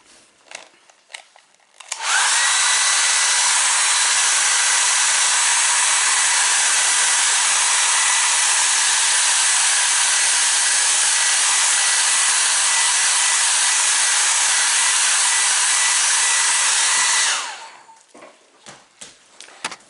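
A hair dryer blows steadily on freshly painted wood carving figures, a loud continuous whir switching on near the start and running for about fifteen seconds before cutting off, with faint handling noises around it.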